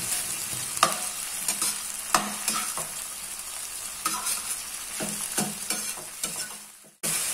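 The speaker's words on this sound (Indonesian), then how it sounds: "Menggoreng bumbu ini tidak memerlukan waktu yang lama." Spice paste for tomato and dried shrimp sambal sizzles steadily in hot oil in a pan, with repeated sharp scraping strokes of a spatula stirring it at close range, no voices.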